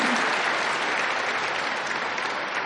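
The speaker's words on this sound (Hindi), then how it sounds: "गीता दीदी जी का बहुत दिल से खड़े होकर के एक बार जोरदार तालियों के साथ धन्यवाद करेंगे" An indoor audience at a question-and-answer session gives loud, dense, steady applause that fills the whole stretch without a break.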